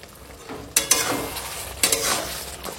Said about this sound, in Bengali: এখন চিনিটা গলে যাওয়া পর্যন্ত রান্না করব